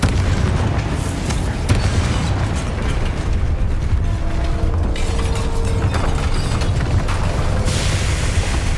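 A Confringo fire spell explodes in the video game Hogwarts Legacy: a loud, booming blast with rumbling low end and mechanical creaks, sustained over a dense, continuous game soundscape.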